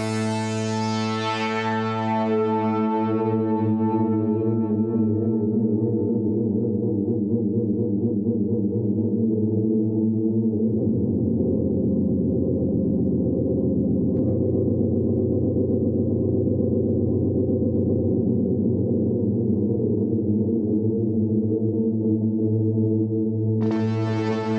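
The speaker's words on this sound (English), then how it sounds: "let's slowly increase the modulation rate so you can hear the effect." A sustained, droning synth tone through Igor Vasiliev AltiSpace 2 reverb, with a wavering shimmer whose modulation rate grows gradually faster, heard alone without any talking.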